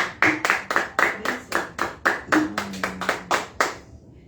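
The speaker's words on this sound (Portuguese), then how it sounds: "Aplauda o Senhor" Rhythmic group clapping in a church, steady unison claps at a brisk even pace for about four seconds, fairly close and clear with no talking over it, stopping cleanly at the end.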